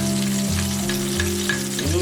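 Four shallots and six garlic cloves sauté in two tablespoons of oil for tekwan broth, giving a steady, close sizzle with faint stirring scrapes throughout.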